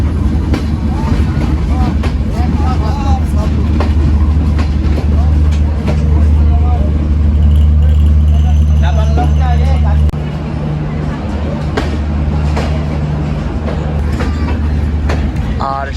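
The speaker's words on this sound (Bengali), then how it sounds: "আমরা চোদ্দো মিনিটের একটা লেট নিয়ে প্রবেশ করছি ভেড়ামারা রেলওয়ে স্টেশনে" The Kapotaksha Express pulls into Bheramara railway station running fourteen minutes late, a loud continuous rumble and clatter of wheels on rails with murmuring voices and station noise mixed in throughout.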